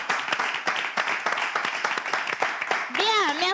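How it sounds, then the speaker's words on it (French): Guests in a studio burst into applause, a dense run of clapping from a small group, with a voice speaking over the last moments. "si les invités sont là, applaudissez pour vous-même"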